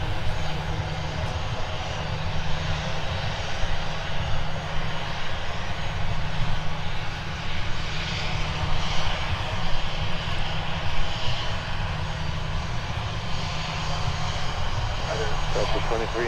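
Delta airliner engines at Minneapolis–Saint Paul airport during departure, a steady broad roar that holds throughout, moderately distant, with voices talking over it.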